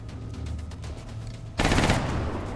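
Gunfire from a soldier in XCOM: Enemy Unknown, a low rumbling burst of rapid shots that gives way abruptly to a louder, harsher blast near the end, with no talking.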